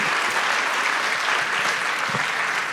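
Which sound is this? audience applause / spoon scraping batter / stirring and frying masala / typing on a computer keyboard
audience applause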